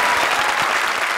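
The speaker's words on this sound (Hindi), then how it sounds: "और प्रिंस के लिए एक बार फिर से जोरदार तालियां." Loud, dense applause from a television comedy show studio audience, a brief continuous burst of many hands clapping close by.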